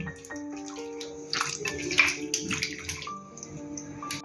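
Water poured off marinated fish during home cooking of fried bombil and mandeli in Malvani style, a splashing, gurgling pour with a few drips, close and moderately loud, no talking.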